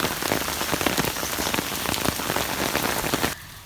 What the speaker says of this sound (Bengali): আমাদের কোয়ার্টারে যখন বৃষ্টি হয়